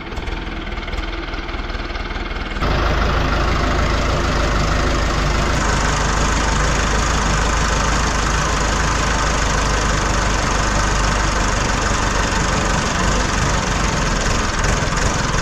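A tractor engine runs loudly close by, starting with a quieter rumble before jumping into a dense, constant roar that holds steady to the end without any talk.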